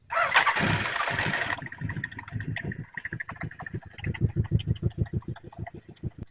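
An engine is started with a loud, harsh roar at first, then settles into an uneven, pulsing idle with rapid, irregular firing beats close by.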